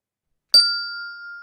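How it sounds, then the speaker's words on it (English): A single simple bell is struck once, a bright clean ding that rings out with a long, slowly fading tone in otherwise total silence. "So just a simple bell, nothing fancy."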